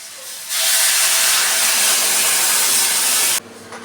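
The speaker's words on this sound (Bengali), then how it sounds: "এখন জল দিয়ে দিচ্ছি।" Water is poured into a hot pan of fried, spiced potatoes, setting off a loud, sudden burst of hissing sizzle that holds steady for about three seconds and then cuts off sharply, heard up close.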